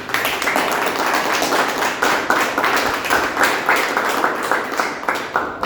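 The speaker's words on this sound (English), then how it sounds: "Let's have a big round of applause for our Toastmaster of the day." Audience applause at a Toastmasters club meeting: loud, sustained clapping from a group of people, continuous and fairly close throughout.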